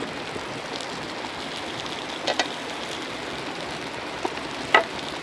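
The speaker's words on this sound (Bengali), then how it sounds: "মাংস থেকে তেল ছেড়ে গেছে, এখন আমি ভাজা আলুগুলো দিয়ে দিলাম।" Fried potatoes dropped into a simmering mutton curry, a soft steady sizzle and crackle with a few sharper pops and stirring clinks, fairly faint and without talk.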